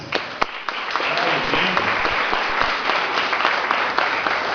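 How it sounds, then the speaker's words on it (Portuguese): An audience gives a round of applause for guests at a church gathering in Bragança Paulista, dense clapping from a room full of people that holds steady throughout, with some voices mixed in. "dá uma salva de palmas para eles"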